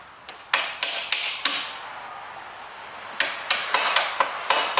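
A hammer strikes a bolt on an Opel Zafira engine in a home garage, sharp metallic blows in two bursts of rapid repeated hits separated by a short pause, fairly close and with no voices.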